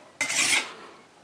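A kitchen knife stroked once along a sharpening steel or stone, giving a single bright rasping scrape of about half a second that trails off into quiet room tone.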